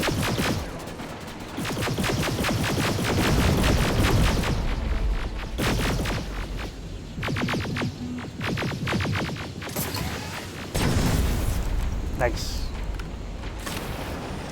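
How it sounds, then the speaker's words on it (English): Heavy rumbling blasts and rapid bursts of gunfire from the video game Terminator Resistance, loud and continuous, with a brief remark spoken over the din. "Big explosion."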